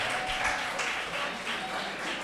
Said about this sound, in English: I need more claps.